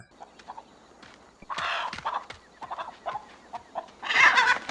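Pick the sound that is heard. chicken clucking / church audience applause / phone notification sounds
chicken clucking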